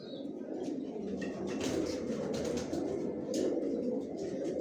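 Pigeons in a new bedding loft coo and rustle steadily at close range, a dense flock murmur with soft wingbeats and occasional chirps throughout.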